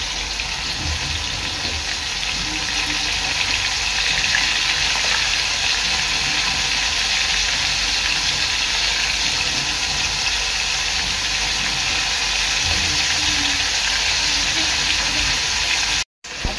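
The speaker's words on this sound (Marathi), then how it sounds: "ही सर्व कोलंबी तळून घ्यायची आहे" Prawns frying in hot oil in a pan, a loud continuous sizzle holding steady for about sixteen seconds before cutting off abruptly.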